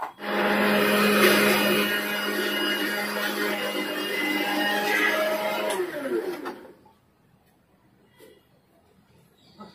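A mixer grinder whirs loudly and steadily while grinding laddu ingredients for about six seconds, then spins down and stops, leaving near silence.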